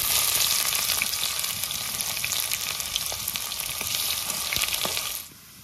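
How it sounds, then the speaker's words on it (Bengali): Onions fry in a pan with cumin, whole garam masala and bay leaves, giving a steady dense sizzle with small crackles that suddenly drops away near the end. "পেঁয়াজটা ভালো করে ভেজে নিয়েছি।"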